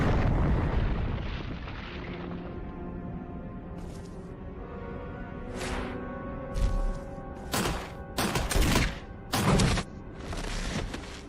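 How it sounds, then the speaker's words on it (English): Rocket launcher blasts in a video game, a long rumbling explosion followed by several sharp bursts and pops with game music underneath; no talk. "All you gotta do is shoot him with the rocket launcher."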